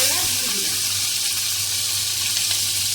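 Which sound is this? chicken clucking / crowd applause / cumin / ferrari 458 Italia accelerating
cumin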